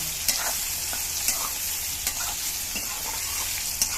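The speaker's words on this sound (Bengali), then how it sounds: "এবার বেগুনটা একটু ভাজা ভাজা করে নেব।" Salted, turmeric-dusted eggplant pieces fry in oil in a pan, giving a steady, bright sizzle up close, while a spatula stirs and taps against the pan in a few distinct scrapes.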